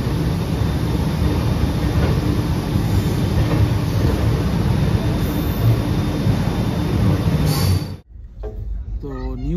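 A Kolkata to Guwahati passenger train runs with a loud, continuous rumble and rattle heard from inside the carriage, then cuts off abruptly near the end, leaving quieter background sounds.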